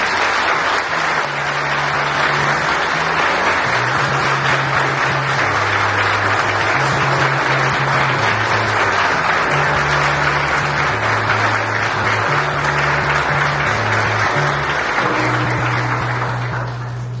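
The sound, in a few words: applause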